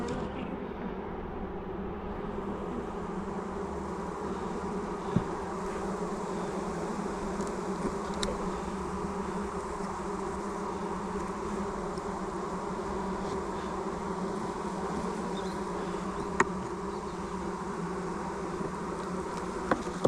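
Honey bees buzz around a hive on a deer farm apiary, a steady close swarm drone that continues evenly throughout with a few faint ticks and no talk.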